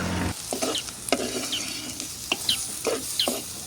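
Chopped chillies and garlic frying in hot oil for an egg curry give a steady close sizzle, with a utensil scraping and stirring through it in a few short, separate strokes.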